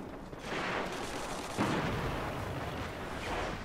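A fusion rifle in Destiny discharges in loud, rushing bursts of noisy energy, a couple of heavy crackling blasts overlapping with continuous battlefield rumble, no voices over them.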